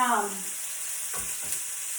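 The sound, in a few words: chicken sizzling in hot pan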